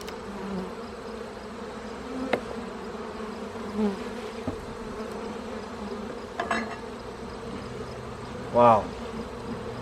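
Honeybees swarm over an opened hive's brood boxes during an inspection, a steady dense buzz hanging close around, with faint knocks and handling sounds and a louder bee passing near the end.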